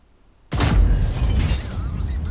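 Tank cannon shot in the World of Tanks game, fired from behind a bush: one sudden heavy boom with a rumbling, noisy tail that stays loud and slowly fades over about two seconds.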